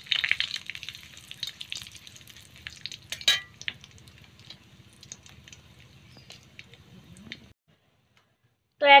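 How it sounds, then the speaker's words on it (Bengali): Five-spice and bay leaf frying in hot mustard oil in a wok, a steady close sizzle with stirring clatter for about seven seconds, then a sudden stop into near silence. "তেল গরম হয়ে গেছে, এবারে কড়াইতে দিয়ে দিচ্ছি 5 ফোড়ন।"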